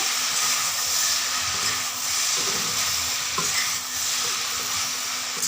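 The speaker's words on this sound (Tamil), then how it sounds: "மஞ்சள்தூள் போட்டுட்டு நல்லா கலக்கி விடும்." Turmeric is stirred into shallots, garlic and tomato as they sauté for a bitter gourd curry. A steady, loud sizzle runs throughout, with a low hum beneath and the occasional scrape of a spoon in the pan.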